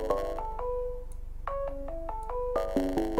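A melodic phone ringtone plays during an X-Plane Cessna 172 flight-simulator session, with stepped electronic tones in short repeating phrases, loud and close, with no voices.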